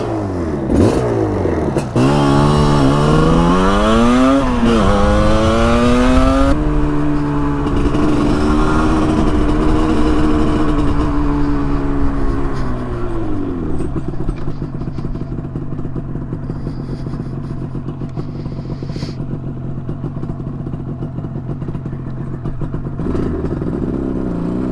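A 1981 Yamaha RD350 LC two-stroke motorcycle out on a ride, its engine revving up and down through several loud rising sweeps before settling into a steadier drone that fades somewhat as it carries on.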